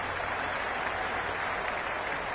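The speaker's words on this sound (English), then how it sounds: "It's evident and ever so audible that the crowd is at near bursting point at today's play" A packed cricket stadium crowd roars and applauds in a continuous, dense wash of noise during an IPL match between Mumbai Indians and Gujarat Titans, loud and unbroken with no clear commentary.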